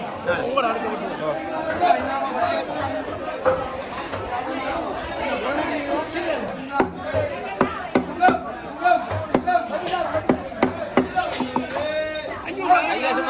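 A knife chops through fish on a board with repeated sharp thwacks, growing more frequent toward the end, while people chatter in a busy fish market.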